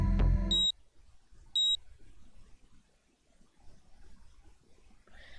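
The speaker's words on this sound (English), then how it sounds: "A tiny beeping sound caught Kano's attention." Two tiny high electronic beeps from a PDA in the video game 428 Shibuya Scramble, short and evenly spaced, ringing clearly above a quiet, faintly murmuring background.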